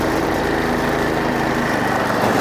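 A homemade redneck side-by-side rolls along slowly at low speed, its small engine giving a steady, loud, close drone with a buzzy mechanical rattle throughout.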